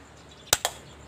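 A toy gun fires at a Jollibee figure set up as a target, giving two sharp, quick plastic clicks in close succession, faint and close against a quiet background with no talking.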